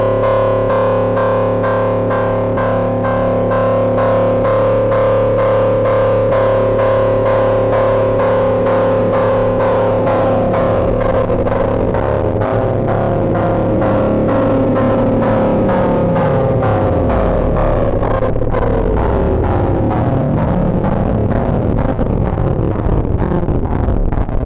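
A Xaoc Drezno and Lipsk 8-bit eurorack processing chain with a second oscillator added gives a loud, continuous buzzy synth tone, its harmonics sweeping and bending in arcs as the signal is reshaped.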